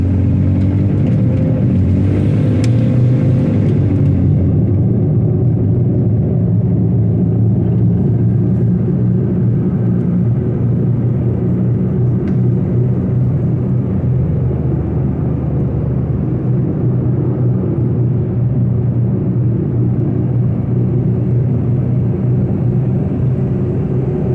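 A 2002 Toyota SR5 pickup, newly fitted with a power steering pump and just shifted back into two-wheel drive, drives along pavement with a steady, loud low engine rumble and road drone throughout, no talking.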